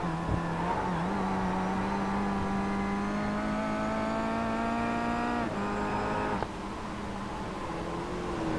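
iRacing race car on the Malaysia circuit driven hard into a corner, engine tone steady then dropping abruptly as the driver lifts and brakes, with a faint tire scrub, loud and close with no talk over it.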